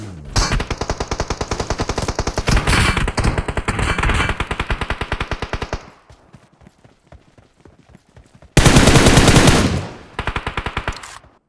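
Rapid bursts of automatic gunfire ring out in the battle royale game PUBG, dense rattling volleys for several seconds, then a quieter lull, then another loud, sustained burst and a final shorter round of shots.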